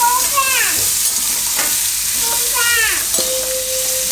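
Finely chopped suran (yam) frying in a pan, a steady close sizzle with a utensil stirring and scraping through it in short bursts, no one talking.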